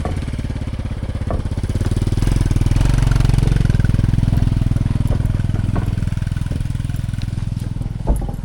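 A motorcycle engine runs steadily close by near a waterfall trip, its pulsing drone swelling over the first few seconds and holding loud throughout, with a brief knock near the end.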